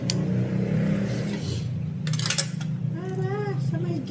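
A bus rumbles past a house gate, its low engine drone steady and fairly close, while people talk over it.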